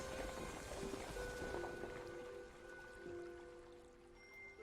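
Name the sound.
flowing water in the video game The Sojourn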